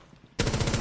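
Rapid automatic gunfire from a first-person shooter video game erupts loudly after a brief quiet lead-in, a dense burst of repeated shots continuing to the end.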